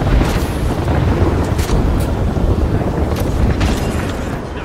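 In the Apex Legends video game, an airstrike pounds the area in a dense, continuous rumble of blasts with scattered sharper bursts, loud and close throughout, with no pause.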